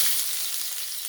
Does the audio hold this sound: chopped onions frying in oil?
yes